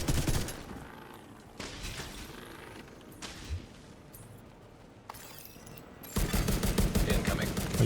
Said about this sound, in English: I'm just shooting in the rifle into the ground